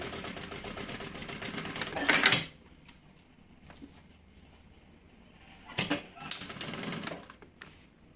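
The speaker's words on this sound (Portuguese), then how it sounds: "E agora é só fazer uma costura aqui bem na beiradinha, só pra segurar no lugar esse bolso." A sewing machine stitches along the edge of a fabric pocket on a changing bag that converts into a purse, with short loud whirring runs separated by quieter pauses.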